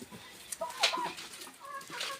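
Chickens clucking close by, a run of short, uneven calls and squawks with brief pauses between them.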